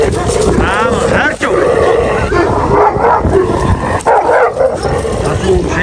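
A dog barks and yips amid loud, busy background noise, with people talking over it throughout.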